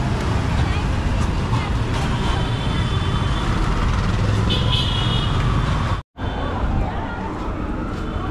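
Traffic sits jammed on a narrow, crowded market road in Baruipur during Durga Puja, with a dense roadway roar, engine rumble, faint horn toots and crowd babble, and a voice talking over it before a brief dropout.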